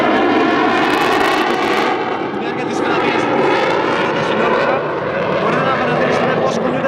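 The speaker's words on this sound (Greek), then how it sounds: "And now, during the slow speed passage, 180 kilometers per hour, look at the canard wings, the small ones at the front." A canard-winged fighter jet makes a slow-speed pass at about 180 km/h during an airshow, its loud engine roar sustained and rippling throughout, with an announcer speaking over it.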